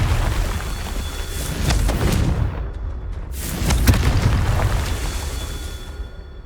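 Confringo blasting spell from Hogwarts Legacy, a heavy booming explosion followed by a second rumbling blast, loud and close, with no voices.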